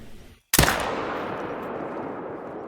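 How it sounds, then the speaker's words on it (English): A hunting rifle fires at a distant nilgai in theHunter: Call of the Wild on the Sundarpatan map: one loud, sharp crack after a short quiet moment, then a long rolling echo that slowly fades. "I'm going to go ahead and try to take our shot at it."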